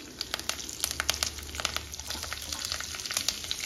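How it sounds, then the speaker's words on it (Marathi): Mustard seeds, asafoetida, urad dal and curry leaves sizzle in hot oil in a kadhai, a quiet, steady frying hiss broken by small irregular pops and crackles. "आपण आता कढईमध्ये मोहरी, हिंग, उडदाची डाळ, कढीपत्ता, हिरवी मिरची आणि कांदा हे सर्व घालून घेणार आहोत"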